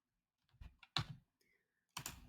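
A few sharp, close computer mouse clicks on a download button in Canva Pro, spaced apart, with quiet gaps between them.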